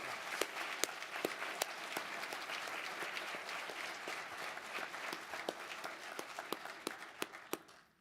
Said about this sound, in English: Let's give the Steel Founders Society a round of applause.